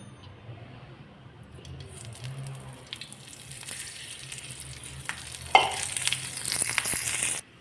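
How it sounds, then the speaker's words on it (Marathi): Chilies and garlic roasting in a little oil in a pan alongside roasted peanuts, a soft steady sizzle that grows louder and brighter toward the end, with a sharp stirring clink partway through. "त्यामध्येच आपण चार मिरच्या आणि लसूण भाजून घेऊ भाजताना थोडं तेल टाकायचं"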